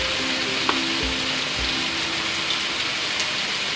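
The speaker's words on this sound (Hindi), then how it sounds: "अब सगली चीज़ों को अच्छे से भून लीजिए 5-4 मिनट" Chana dal with turmeric, red chili powder and coriander powder fries in a pan as a steady, dense sizzle, with a couple of low thumps early on and no voices.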